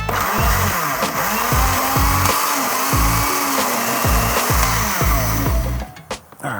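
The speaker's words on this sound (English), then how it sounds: "Let's go ahead and blend it up" A blender whirs loudly and steadily, churning a Jamaican jerk marinade with olive oil, its motor pulsing in a regular rhythm before cutting off near the end.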